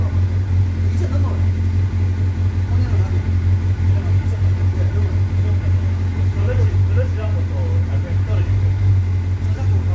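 Motorcycle engine idling at raised RPM during a check of a faulty bike, a steady low hum running continuously throughout, with people talking over it.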